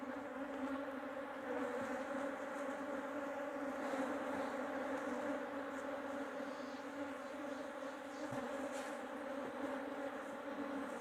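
Masses of honeybees drone nonstop while brood frames are shaken into small nucleus hives to divide a swarm, producing a thick, even buzz close at hand with faint soft knocks and no speech.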